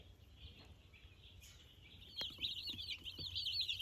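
Meat chickens clucking on a farm, soft and scattered at first, then a busier run of close, overlapping clucks and chirpy calls with low rustling and farmyard background noise.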